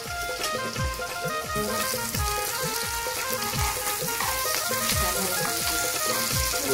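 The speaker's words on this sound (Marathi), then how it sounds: "मस्तपैकी फ्राय झालेले आहेत तुकड्या" Pieces of jitada fish frying in a pan, a steady dense sizzle with crackling spatters throughout, close and fairly loud.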